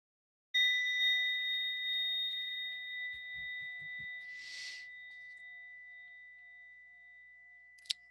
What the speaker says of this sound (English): I'll ring the bell to bring you all back.